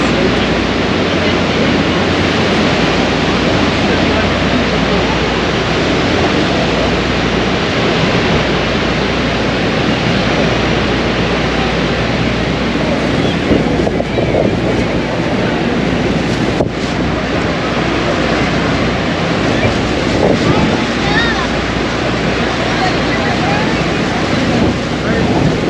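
Roar of Niagara Falls heard from a tour boat on the water: a dense, steady broadband rush with wind buffeting the microphone, continuous and loud for the whole stretch.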